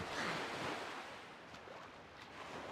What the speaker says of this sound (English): Look at how the water just undulates.